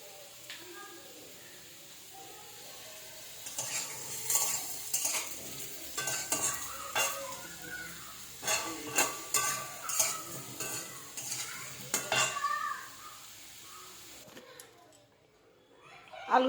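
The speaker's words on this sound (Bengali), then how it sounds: "এদিকে লাল লাল করে আলু ভাজবো, ভেজে নিয়ে তারপরে মশলা দিয়ে কষিয়ে নামাবো।" Potatoes fry in a pan and are stirred with a utensil, clattering and scraping in irregular bursts over a soft sizzle, with faint talk in the background and a quieter stretch near the end.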